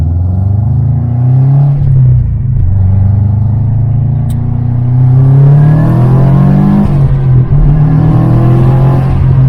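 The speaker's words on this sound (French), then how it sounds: "Il a fait une accélération." A Subaru STI accelerating hard, its engine note climbing in pitch and loudness as the revs rise, loud and close throughout with no talking.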